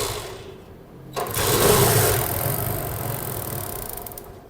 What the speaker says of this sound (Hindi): आपने देखा कि बाइक जो है वो अल्हम्दुलिल्लाह स्टार्ट हो चुकी है।